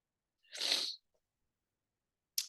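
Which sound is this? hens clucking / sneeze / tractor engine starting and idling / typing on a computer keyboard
sneeze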